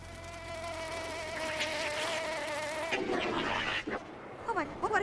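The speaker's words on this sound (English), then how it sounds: "That is a wasp. It's enormous." An enormous wasp buzzes steadily and close by, a loud droning whine that holds for several seconds before changing pitch and breaking up, with faint voices near the end.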